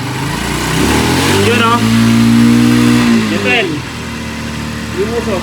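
A carbureted car engine revving up and settling back toward idle, loud and close, with a voice talking over it.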